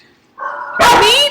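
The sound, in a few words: dogs barking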